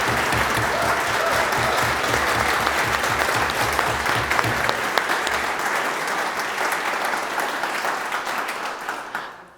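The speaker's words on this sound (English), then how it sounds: "I think we should just need to give her an extra round of applause" A concert audience gives a big, dense round of applause for a soprano, loud and sustained for several seconds before tapering off at the end.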